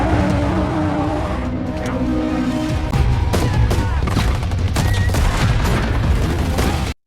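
Gunfire in a violent shootout, with repeated sharp bursts cracking over a dense, loud mix of engine rumble and commotion throughout, no talk.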